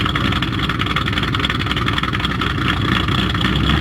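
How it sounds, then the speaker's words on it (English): A Ford Mustang engine fitted with mild hot rod cams runs steadily, a loud, close, throbbing idle with a continuous rumble and no other sounds. "the hot rod cams, but you can certainly hear them in some of my videos"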